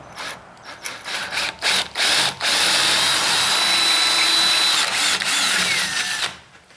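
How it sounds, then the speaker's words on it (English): A router countersinks a hole in wood in a home wood shop, whining loudly and close in a sustained cut after a few short bursts, then spinning down. "I'm using a router to countersink it"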